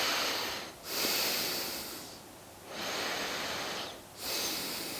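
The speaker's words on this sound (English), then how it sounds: "So let's take 3 more breaths here." Deep, slow breaths drawn in and released while holding a quad stretch against a wall, three broad hissing exhalation swells separated by short quiet inhales, close and alone.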